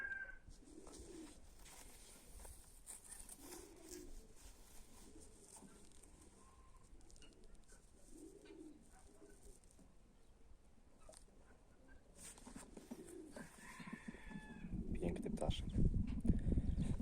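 Soft, low pigeon coos repeat at intervals over a steady background hum, with a louder rustling burst near the end.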